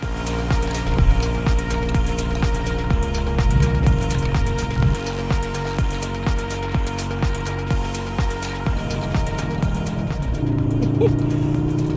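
A 306bhp 2020 Cupra Formentor SUV being driven, its engine droning loudly and rising in pitch through repeated gear changes over steady road and cabin noise.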